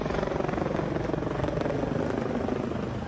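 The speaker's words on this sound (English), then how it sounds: "From a chopper flyover from agencies across South Florida to his final radio call." A helicopter from South Florida agencies makes a memorial flyover for a fallen fire battalion chief, its rotor a steady, dense rumbling throb held at even loudness throughout.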